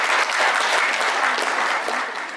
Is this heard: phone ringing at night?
no